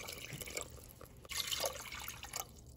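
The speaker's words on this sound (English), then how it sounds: "And I'm also gonna add 2 cups of water." Water is poured into a pot for candied peel syrup after sugar has gone in, giving a soft, uneven splashing trickle close by for a few seconds.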